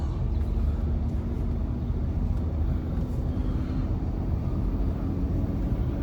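Inside a Range Rover L322 on a countryside drive, a constant low engine and road rumble fills the cabin, steady and unbroken, with no talking.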